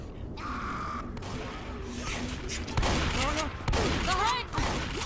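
Gunfire in the video game Dead Air, a versus match, with dense bursts and bangs blending into a noisy, busy mix of game sounds, continuous throughout.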